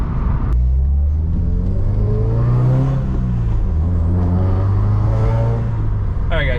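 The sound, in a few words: Subaru WRX with Invidia Q300 catback exhaust revving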